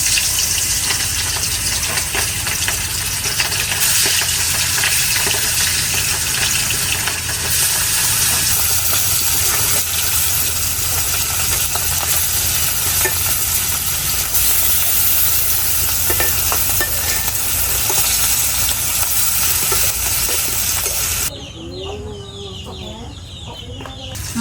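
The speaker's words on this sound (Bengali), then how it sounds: "তেল গরম হয়েছে, এখন মাছগুলো দিয়ে দিতেছে।" Hilsa fish frying in hot oil, a continuous loud sizzle and crackle close by, with hens clucking in the background and faint voices now and then.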